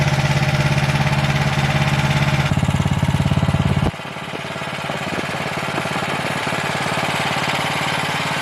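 A 420cc big block engine fitted in a GMB100 bike frame runs close by with a loud, rapid, chugging idle, shifting pitch midway before settling into a slightly quieter steady thrum.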